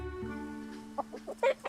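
Chickens clucking, a few short close clucks in quick succession following a steady droning tone underneath.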